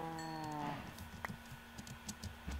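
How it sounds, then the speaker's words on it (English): Minecraft cow mooing once, a clear harmonic low moo at the start, followed by soft footsteps and small game sounds. "Come here, cow."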